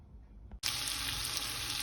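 Cut-up chorizo hits hot olive oil in a soup pot and erupts into a loud, steady sizzle after a brief quiet moment, then frying continues evenly to the end.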